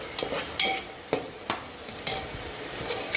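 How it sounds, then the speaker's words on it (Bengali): Ginger, garlic and cumin spice paste stir-fried in a pan for mutton biryani, with a spoon scraping and clinking against the metal at an uneven rhythm over a soft background sizzle. "পেস্ট মশলা, যেটার মধ্যে আছে আদা, রসুন, জিরে, এটাকে আমি ভালো করে কষিয়ে নিলাম"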